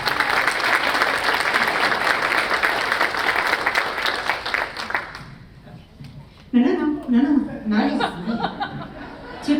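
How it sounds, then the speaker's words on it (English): An audience gives a doctor a round of applause, dense and loud clapping for about five seconds before it fades, followed by scattered chuckles and talking. "let's give Dr. Rojas a round of applause"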